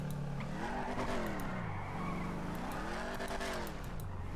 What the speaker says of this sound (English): I like the way this car sounds.